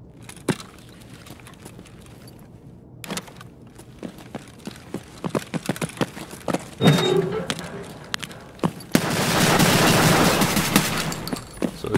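Gunfire in Escape From Tarkov on the Factory map: a rapid string of sharp, close shots, with a sustained loud burst toward the end, over a faint background of game noise.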